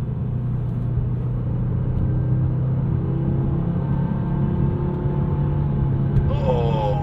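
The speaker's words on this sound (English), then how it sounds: "just the raw noise of that five-cylinder turbo" A 2022 Audi RS3's five-cylinder turbo engine drones steadily from inside the cabin, a loud low rumble with a rising tone, while someone speaks briefly over it.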